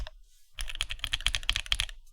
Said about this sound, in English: But the keys, I think they sound nice and creamy.